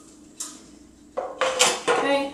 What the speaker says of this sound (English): I'm just going to throw it on just a plain old baking sheet right here.